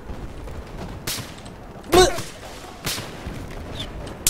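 A few isolated gunshots in Battlefield 4 ring out as sharp single cracks spaced about a second apart, moderately loud over a quiet game background.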